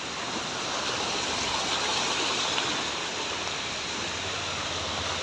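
Rainwater rushes steadily in Pune after a whole night of heavy rain, a continuous broadband roar of flowing water with no pauses, moderately close and with no voices.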